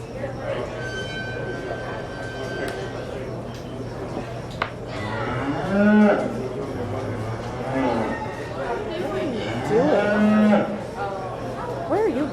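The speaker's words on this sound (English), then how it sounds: "Our Reserve Grand Champion Champion Spring Breeding Heifer was exhibited by Peyton Collins." A beef heifer at a county fair beef show lets out several loud, drawn-out moos close by over a steady background hum, while an announcer talks throughout.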